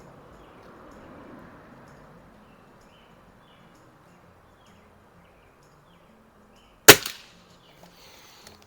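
A single sharp shot from a Umarex Prymex .22 air rifle at an outdoor range, a crisp crack with a brief echo after several seconds of quiet background.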